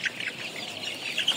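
Colour Bat chickens from the Paragon company, three-week-old meat birds on a farm, cluck and chatter continuously at close range for a short stretch, with no voices over them.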